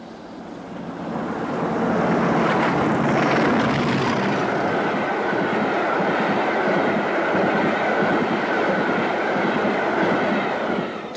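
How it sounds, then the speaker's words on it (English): Preserved diesel locomotive D200 passes Tiverton Junction on a rail tour. A loud, sustained engine drone and rumble builds quickly and holds steady as the train goes by, with no talking. "A different type of preserved locomotive is seen at Tiverton Junction as D200 passes on a rail tour."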